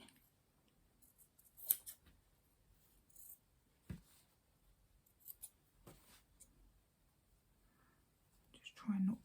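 Scissors snipping through a fabric seam on a quilt made from baby clothes, a few sharp, separate cuts with soft rustling between them, close and quiet, with faint whispering.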